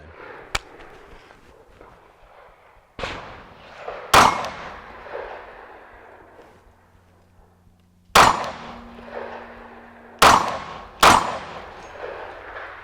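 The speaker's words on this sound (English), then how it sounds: "I got this steel target sort of angled away so it's not direct impact to my Jeep if it were to ricochet" Pistol shots fire outdoors at an angled steel target, each sharp crack followed by a ringing metallic clang; about six shots come in irregular spacing, some paired closely, with ringing decay between.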